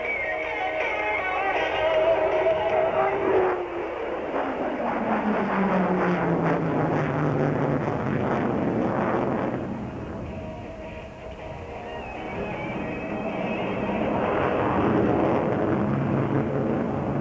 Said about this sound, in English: the Tomcat will now come directly before you for the 1/2 Cuban 8 in the head-on position